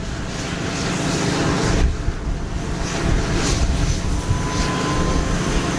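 A Kawasaki P-1 aircraft flies a display at the ILA 2018 air show in Berlin. Its steady, loud roar is heavily mixed with wind buffeting on the microphone throughout.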